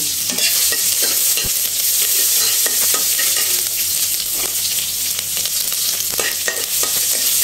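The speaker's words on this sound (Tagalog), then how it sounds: "Gisain lang natin ang ating sibuyas and bawang." Onion and garlic sautéing in a hot pan with stirring, a steady loud sizzle punctuated by scraping clicks of the utensil throughout.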